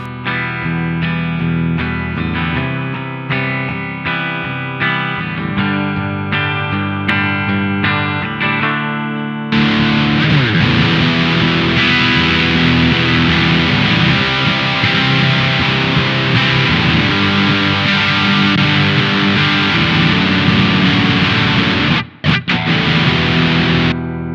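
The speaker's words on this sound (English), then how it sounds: "the perfect amp in a box / distortion pedal" Electric guitar through a Fulltone OCD 1.7 overdrive/distortion pedal plays a few clean chords, then kicks into a loud, heavily overdriven distorted riff that sustains, with a brief cut near the end.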